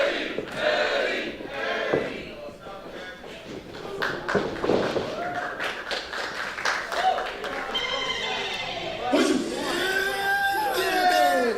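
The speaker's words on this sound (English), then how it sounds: "the crowd showing Eddie Exile some love" A wrestling crowd at a live indie show roars and cheers in waves, with shouts and applause rising and falling throughout, loud and close, mixed with excited voices.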